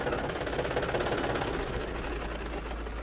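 A tractor engine runs nearby with a continuous low, throbbing rumble and a fast mechanical chatter, holding steady throughout.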